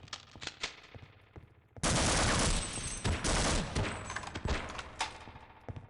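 Rapid gunfire in the video game Half-Life: Opposing Force, a dense burst of automatic shots that starts abruptly after a few scattered thumps and keeps going with loud, close, overlapping blasts.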